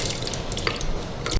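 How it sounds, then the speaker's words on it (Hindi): Cooked falsa berries tip into a grinder jug with a short run of soft, wet splashes and drips, close and fairly quiet. "फालसों को मैंने जग में डाल दिया"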